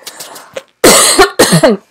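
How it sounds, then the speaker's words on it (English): A few soft breathy sounds, then two loud, harsh coughs in quick succession, close and forceful. "hold on, I'm going to cough"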